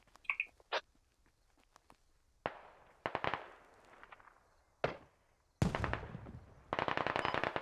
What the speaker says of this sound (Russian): Первый, второй, у вас стрельба.